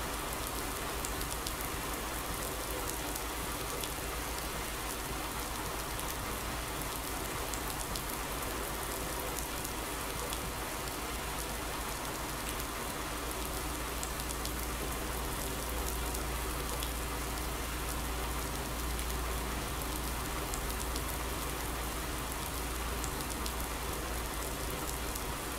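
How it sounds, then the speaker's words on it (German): Rain in Farming Simulator on a Thüringen farm map, a constant, moderately quiet patter and hiss of falling drops that runs evenly for the whole stretch, with no speech over it. "Regen ist typisch in Thüringen"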